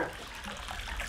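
Water pouring steadily into a large backyard swimming pool, a continuous rushing, splashing flow at close range with no voices.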